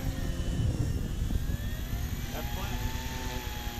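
An FMS Tundra radio-controlled model airplane flies outdoors, its electric motor whining steadily overhead against wind noise, with people talking nearby.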